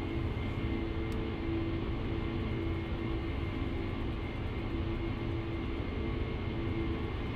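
A Boeing 747-400 taxiing to the gate in FSX, its jet engines giving a steady, loud, unbroken drone with a faint high whine and no talk over it.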